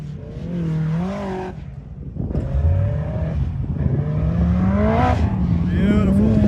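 Car on new tires climbing a hill outdoors, its engine revving loudly with rising and falling pitch through the gears, close and continuous, with people talking over it.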